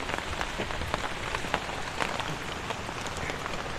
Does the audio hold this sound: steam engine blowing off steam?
no